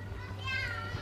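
Children play outside a children's science dome in Japan, their high chatter and calls close and lively over a low background hum in a brief burst.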